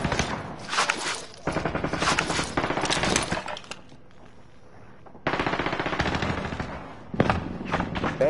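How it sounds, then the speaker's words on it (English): Automatic gunfire rattles in loud rapid bursts at the player in an online shooter video game, several long volleys split by short pauses and a quieter stretch. "Damn, they're shooting at me again."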